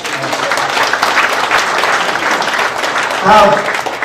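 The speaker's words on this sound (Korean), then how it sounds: "노경 목사님 박수 드리십시오." Congregation clapping at a church fellowship gathering, a fairly close, continuous patter of hands lasting a few seconds, with a brief voice cutting in near the end.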